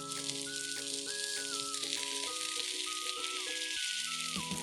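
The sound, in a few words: chicken wings frying in a covered pan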